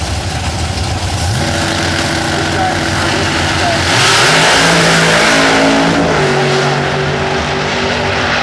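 Drag racing car at an IHRA national event, loud engine roaring and revving with rising pitch as it launches down the track, an announcer talking over the engine noise.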